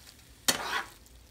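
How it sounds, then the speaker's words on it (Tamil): Cooked rice being stirred into tomato rice in a pan: a single short scraping, sizzling sweep of the spoon stands out against near-silence. "இப்போ சாதத்தை நல்லா மிக்ஸ் பண்ணி விட்டுக்கோங்க."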